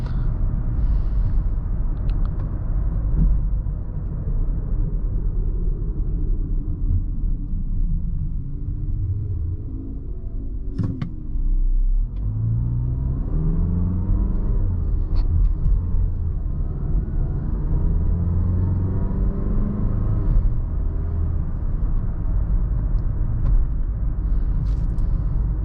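2020 Mazda CX-5 SUV engine accelerating on the road, a steady low rumble with rising and falling engine tones under road and wind noise, heard from inside the cabin over about twenty-five seconds.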